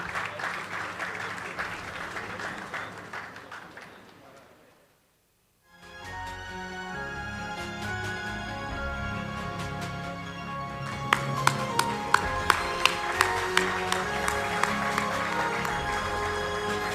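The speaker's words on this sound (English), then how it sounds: "Please give us a round of applause for our laureate, Gervais Kofi Jondo" An audience at an awards ceremony applauds a laureate with dense, sustained clapping that fades to near silence, followed by music with rhythmic percussive hits.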